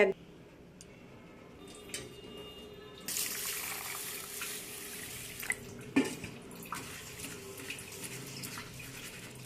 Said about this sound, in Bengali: এই মুগ ডালটাকে আমি এবারে ভালো করে জল দিয়ে ধুয়ে নেব